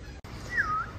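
A young puppy gives one short, close, rising-and-falling whimper during a quiet moment, with no voices over it.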